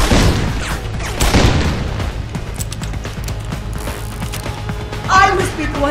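An explosive-shot gun fires in Deus Ex: Human Revolution, heavy booms in the opening seconds followed by mechanical clanks and game effects, with another thump near the end.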